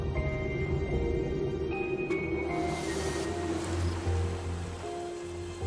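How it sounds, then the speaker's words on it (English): Choppy ocean waves in the survival game Raft, a continuous washing surf with a low rumble beneath, moderately loud and steady, with a few faint tonal game sounds layered over it. "Waves are choppy."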